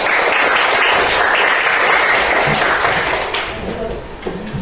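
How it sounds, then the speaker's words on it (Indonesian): A classroom full of students applauds loudly in a dense burst of clapping that holds steady, then thins toward the end with a few scattered claps. "ambil tepuk tangan untuk Gelis."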